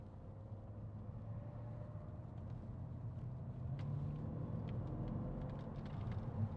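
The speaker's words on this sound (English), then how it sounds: "Listen to that engine." A 2010 Mercedes-Benz E500 cabriolet's 5.5-litre V8 idles with a steady, low, quiet rumble, heard alone with no voices, swelling slightly midway.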